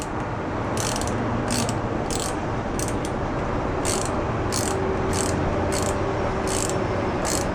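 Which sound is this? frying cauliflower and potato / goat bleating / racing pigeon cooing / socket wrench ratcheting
socket wrench ratcheting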